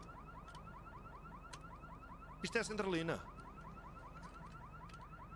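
A damaged car's alarm repeats its warbling, looping electronic tones at a steady rhythm, and someone speaks briefly over it partway through.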